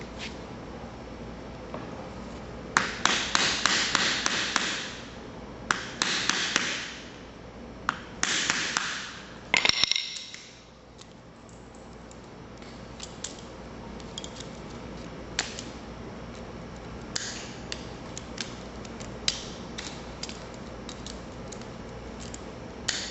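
Hammered-down metal on an Audi shifter linkage being pried back with pliers or a screwdriver: bursts of metallic scraping and clicking early on, then scattered light taps and ticks against quiet background noise.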